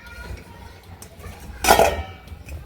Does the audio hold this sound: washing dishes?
yes